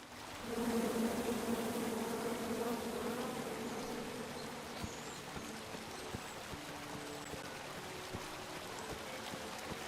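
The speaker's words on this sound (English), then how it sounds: "Come at me, bees!" Bees buzz in the King's Quest video game, a steady droning hum that swells in near the start and holds at moderate level, with occasional soft clicks and ticks underneath.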